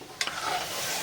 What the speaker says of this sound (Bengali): এই যে তিতর ডালের জন্য উচ্ছে ভাজা হচ্ছে